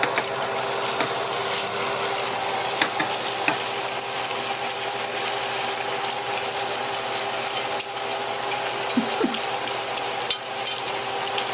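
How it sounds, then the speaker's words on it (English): Pork sizzles loudly and continuously in a hot pan with onion and ginger, a dense frying hiss broken by occasional stirring clicks and scrapes. "we're going to fry up the pork first, because it takes a lot longer to cook"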